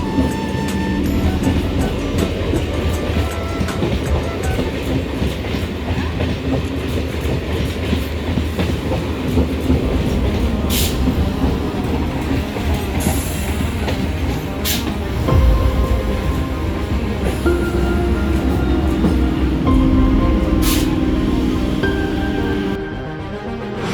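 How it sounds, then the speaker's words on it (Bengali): A 12-coach Bangaon local train rolls through Bangaon Junction, a loud, sustained rumble with rhythmic clickety-clack of wheels over rail joints and a few sharp metallic squeals, close by, easing off at the end. "তো এবার ট্রেনে উঠবো, 12 বগি, এটা বনগা জংশন।"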